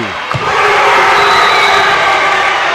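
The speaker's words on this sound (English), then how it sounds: "And that late cheer was one of the football players doing a backflip." Crowd at a high school volleyball match erupts in a loud, sustained cheer for a football player's backflip, a roar that swells quickly and holds steady with shouts mixed in.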